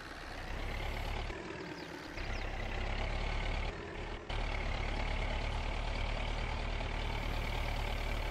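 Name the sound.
crawler tractor engine straining, from video game Farming Simulator 22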